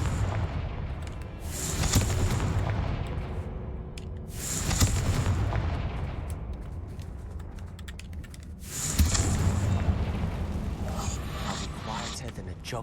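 Repeated blasts from the Confringo fire spell in Hogwarts Legacy, three heavy booming bursts spaced a few seconds apart over a constant game background, with keyboard clicks and a voice talking underneath.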